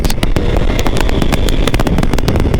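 A Kawasaki motorcycle engine revs hard and close, a loud, rapid, pulsing crackle of exhaust that holds steady throughout.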